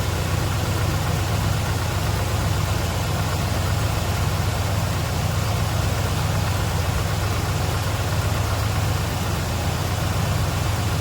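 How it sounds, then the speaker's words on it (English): A 1967 Plymouth Fury V8 idles steadily while warming up, a continuous low, even engine rumble that holds constant and close for the whole stretch, with no talking over it. "Warm up here for a minute before we start cranking it up."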